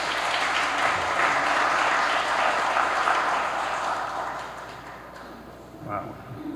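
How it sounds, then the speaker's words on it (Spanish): Strong applause from a courtroom audience of judges and officials welcoming a lecturer on national margin of appreciation, a dense steady clatter that fades toward the end with a few late claps. "a quien recibimos con un fuerte aplauso"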